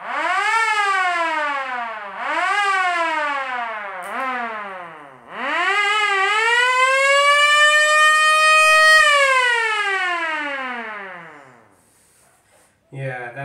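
A restored vintage Ademco motor-driven alarm siren winds up loud and close in three short rising-and-falling wails, then holds one long sustained howl before spinning down. A brief burst of noise follows at the end.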